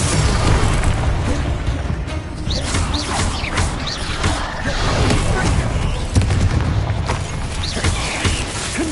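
Confringo explosive spell cast repeatedly in Hogwarts Legacy, giving dense booming blasts and crashes that run throughout amid busy game noise, with the spell names spoken over them.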